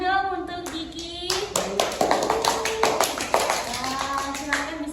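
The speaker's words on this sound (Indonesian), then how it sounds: "Beri tepuk tangan dong untuk Diki." Schoolchildren clapping in a classroom for a classmate, a quick run of light hand claps mixed with an adult voice and some high tonal sounds.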